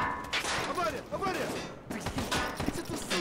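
Gunshots crack in a firefight in the video game Escape From Tarkov, coming as loud rapid bursts with a short gap midway, while people talk over them.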